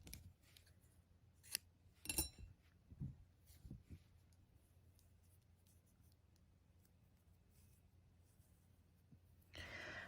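Scissors snip a strand of crochet yarn in a quiet room, a couple of faint close clicks early on, followed by soft handling noises.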